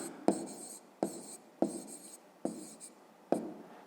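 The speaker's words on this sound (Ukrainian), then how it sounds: "Спочатку пишемо береза." A pencil writes a word on paper in five short, crisp scratching strokes, each a sharp close-up scrape that fades quickly, with quiet pauses between them and no talking.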